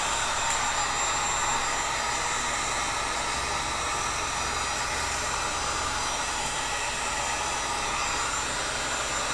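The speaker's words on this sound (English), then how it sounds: "Hit it again with your heat gun because you want it to remain soft and pliable." Heat gun blowing hot air onto PVC, a steady broadband hiss and whoosh held at constant level without pause, with no talking.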